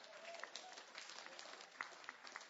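An audience at a Flat Earth conference in Canada claps, a faint, distant, steady patter of applause with no other sound standing out.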